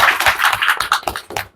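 A congregation clapping loudly at a Sunday church service, a brisk rhythmic run of many hands in quick close claps.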